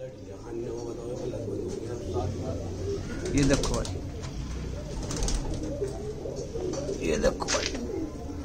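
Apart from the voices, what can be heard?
pigeons cooing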